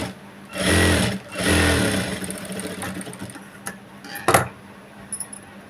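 A sewing machine stitching thread piping onto a boat-neck cloth runs in two sustained whirring bursts up close, followed by lighter clicks and a brief clatter of handling.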